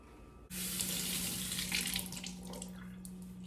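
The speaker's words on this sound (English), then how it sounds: "Also, wash your veggies, guys." A kitchen tap turns on abruptly and water runs steadily into a sink while vegetables are rinsed, a close, full hiss with shifting splashes and no talk.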